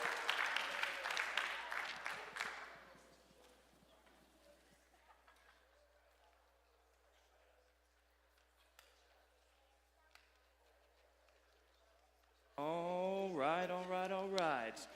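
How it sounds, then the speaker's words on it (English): Applause for young contestants at a youth variety show fundraiser, a loud burst of clapping at the start that fades into quiet room noise, before a voice speaks near the end. "Give a round of applause for our contestants"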